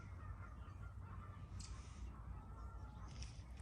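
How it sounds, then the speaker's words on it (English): Distant geese honk intermittently over steady low outdoor rumble and wind, faint calls rising now and then across the open air near a canal in hill country. "Look at the geese, they're probably on the canal."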